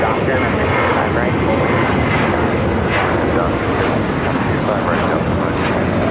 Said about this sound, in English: This is Delta Airlines 1865 taking off to Puerto Vallarta on a 737-800.